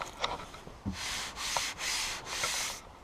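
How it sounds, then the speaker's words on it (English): A hand rubs across a car's painted panel that is rough with old overspray, making several close, scratchy sanding-like strokes in a slow rhythm, each stroke a burst of gritty friction with short pauses between. "When we rub a hand on that panel"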